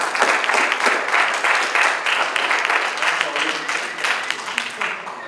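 An audience at a university music recital applauds a popular-guitar teacher, with steady, continuous clapping from a crowd filling the room and not easing off.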